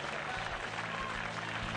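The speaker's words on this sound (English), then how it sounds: "the riders can always rely on the crowd. The cheering is motivation" Crowd at a cross-country mountain bike World Cup race in Offenburg cheers and applauds steadily, a dense wash of clapping and shouts with commentary over it.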